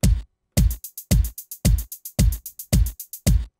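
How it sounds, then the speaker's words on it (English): A drum beat programmed on an MPC plays sixteenth notes, with crisp evenly spaced hits in a steady rapid rhythm, heard alone and close. "And so if I added 16th notes, it would sound like this."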